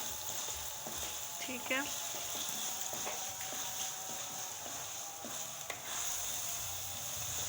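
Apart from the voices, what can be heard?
stirring and frying kachnar qeema in a pan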